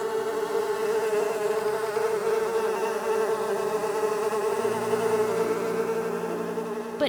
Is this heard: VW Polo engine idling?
no